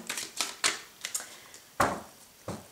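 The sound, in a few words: cutting a deck of tarot cards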